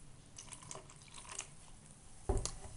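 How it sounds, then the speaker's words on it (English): Baking soda, vinegar and lemon juice fizz and bubble, a faint crackling hiss with small pops, near and quiet, ending in a louder clunk. "As you can hear, it's fuzzing up, making these bubbles."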